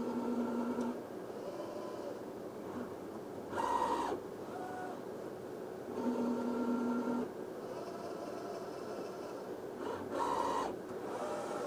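Biomek lab automation robot distributing media into 384-well plates, giving off repeated mechanical whirring and servo motor runs in regular cycles over a steady hum, fairly close and without talk.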